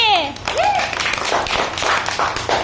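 Children clapping during a playful classroom number lesson, several bursts of hand claps mixed with lively voices and a teacher talking over them.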